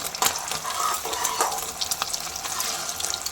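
An egg fries in hot oil for fried rice, giving a steady close bubbling sizzle with small crackles throughout and no talking.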